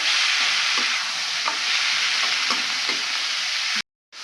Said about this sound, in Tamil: நல்லா வதக்கிடலாம் வெங்காயத்தை.